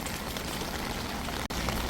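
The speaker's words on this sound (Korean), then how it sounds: "비가 오니까 정말 좋네요 빗소리가" Steady rain pours at Seomun Market, a traditional outdoor market, as a dense, even hiss with no break except for one tiny dip. No one speaks.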